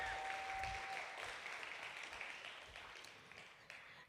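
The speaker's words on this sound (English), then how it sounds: "Give her a round of applause" Applause for the founder and curator of Women at Work as she is introduced on stage, a steady wash of clapping from a modest audience that fades gradually over a few seconds.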